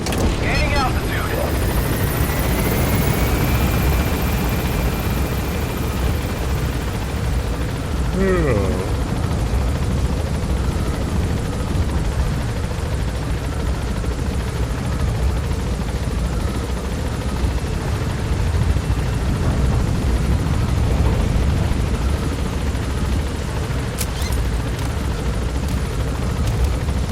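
Helicopter rotor and engine roar steadily as the aircraft gains altitude in the video game Metal Gear Solid V: The Phantom Pain, a loud continuous thrum lasting the whole stretch with no voices.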